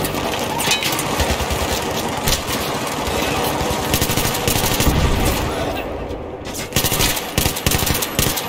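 Sustained automatic fire from a light machine gun in Battlefield 3, dense rapid bursts running almost continuously at close range with a brief lull near the end before firing resumes.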